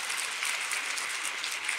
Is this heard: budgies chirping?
no